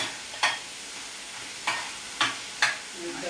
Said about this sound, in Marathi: वाटण चांगलं शिजून घ्यायचं आपल्याला वाटण मस्त असं शिजून घ्यायचं